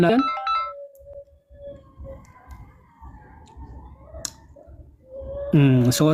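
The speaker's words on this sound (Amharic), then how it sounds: "ስልክ ገብቶብን" A mobile phone ringtone signals an incoming call, with bright melodic tones at the start that return loudly near the end. Speech continues in between.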